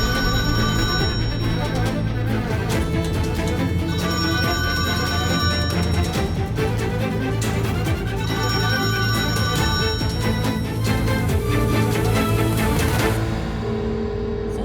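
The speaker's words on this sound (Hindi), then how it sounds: "फोन उठाओ सैरा, फोन उठाओ, फोन उठाओ।" A telephone bell rings loudly and steadily in repeated bursts for about thirteen seconds in an Urdu-dubbed drama scene, then cuts off abruptly near the end, with no talking over it.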